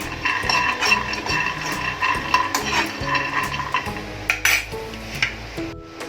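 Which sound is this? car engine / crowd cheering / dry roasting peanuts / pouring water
dry roasting peanuts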